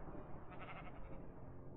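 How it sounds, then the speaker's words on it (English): Sheep bleat in the Minecraft video game, a short wavering blocky bleat, moderately loud and alone without talk. "Come on, sheep."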